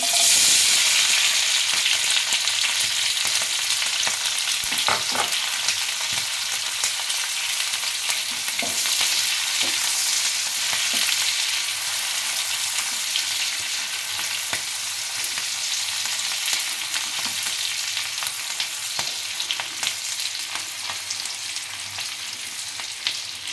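Cubed onions hiss and sizzle steadily as they fry in hot oil for a Bengali chilli fish dish of bhetki, a continuous close crackle with occasional stirring taps.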